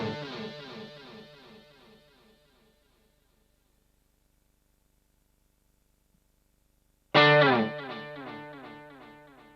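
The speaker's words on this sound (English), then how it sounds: "Hear how the delay carries over." Distorted electric guitar chords through a Boss GT-10 processor ring out and trail off in repeating delay echoes that fade to silence, then a new loud chord strikes with its own echoing repeats, the delay carrying over between patches.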